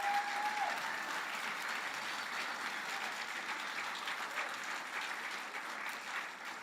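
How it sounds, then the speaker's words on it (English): An audience at a retirement celebration for a theater figure claps together, producing dense, sustained applause that stays fairly even throughout, heard from within the room without speech over it. "Let's give them a round of applause."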